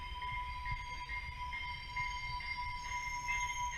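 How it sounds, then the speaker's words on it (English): A double-decker commuter train rolls slowly into a station with a steady low rumble and a thin, sustained wheel squeal ringing above it, fairly distant and even. "Some cool footage of the double-decker TRE train pulling into the station here"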